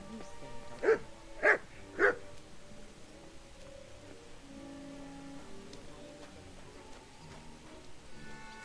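A dog in the video game Kingdom Come: Deliverance II gives three sharp barks in quick succession, fairly close, followed by a quiet ambient background.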